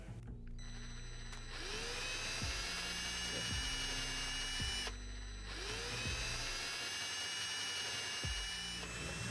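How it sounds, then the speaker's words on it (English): An electric drill with a Phillips No. 2 bit whirs in two long bursts removing spa panel screws, revving up and down with rising and falling pitch as it spins, close and fairly loud. "you will need to use an electric drill with a Phillips No. 2 drill bit"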